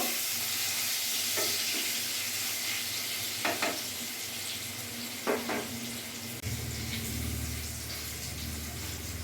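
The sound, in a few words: potatoes frying in oil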